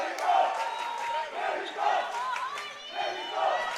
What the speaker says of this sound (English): now we hear the Argentinian crowd rallying around Viñas